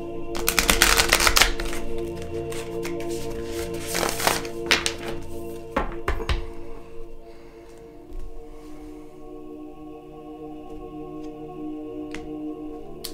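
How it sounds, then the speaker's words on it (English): A deck of tarot cards is shuffled in quick bursts of riffling and slapping, busy through the first six seconds and then fading to a quieter, steadier rustle with a few soft taps. "I pre-shuffled my decks, but I like to shuffle them one more time."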